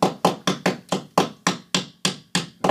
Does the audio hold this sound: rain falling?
no